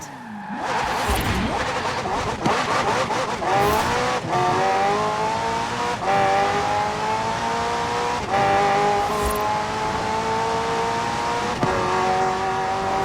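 McLaren twin-turbo V8 hybrid in Forza Horizon 4, engine revving loud and close, climbing through gears in repeated rising pulls with brief dips at each upshift and some tire noise.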